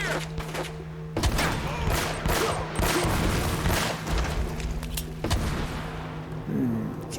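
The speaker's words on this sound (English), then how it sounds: "Just throw some grenades around." Grenade blasts and gunfire in Uncharted: Drake's Fortune, several heavy booms and sharp bursts in irregular succession, loud and close, with a player's voice occasionally heard.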